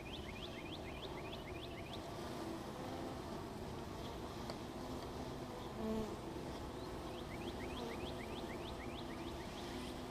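Honeybees at a freshly opened beehive, a steady faint buzzing swarm close by, with no voices.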